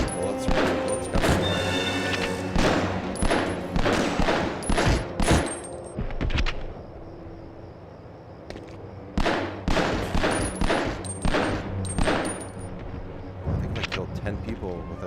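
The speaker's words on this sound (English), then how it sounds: "Bullets coming." Gunfire in the Medal of Honor: Underground video game, with rapid bursts of loud shots and crashes repeating in clusters and a brief lull midway, while someone talks over the action.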